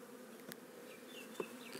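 Honey bees buzz steadily and faintly on hive frames during a swarm-prevention inspection, a low hum with occasional individual bees droning past close by.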